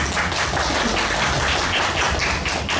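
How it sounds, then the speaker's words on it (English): An audience at a literary festival panel on writing across cultures gives three speakers a round of applause, a dense, loud, continuous clapping that fills the whole stretch without pause. "could you please give these three a round of applause?"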